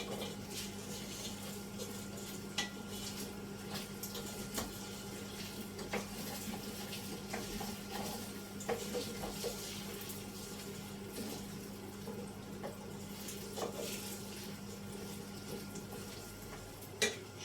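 Hot water pours steadily onto toasted rice in a pot, a continuous splashing, running-water sound lasting throughout with a few small knocks, close by and without talk.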